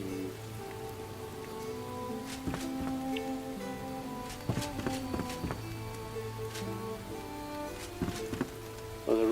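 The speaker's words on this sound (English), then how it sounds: "So there's no rain coming in here by that" Steady rain falls in the video game Enshrouded, a continuous hiss of drops on surfaces with scattered footsteps and faint tonal game sounds mixed underneath.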